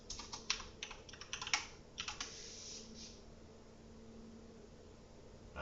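Someone types on a computer keyboard, a quick close clatter of keystrokes for about three seconds that then fades into a quiet room hum.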